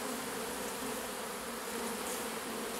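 A large swarm of honeybees being moved into a hive makes a dense, steady, loud buzzing hum that fills the space continuously with no pauses and no voices.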